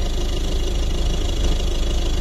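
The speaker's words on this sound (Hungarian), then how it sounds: "Nagyon finoman látjátok, egyenletesen tisztán jár a motorja" A Ford Fiesta 1.5 TDCi diesel engine idles with a steady, even low rumble, heard close and alone with no voices.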